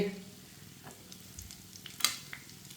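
Egg burger patty frying in a pan just after being flipped, a soft steady sizzle with a few faint clicks and one sharper tap near the end, no voices.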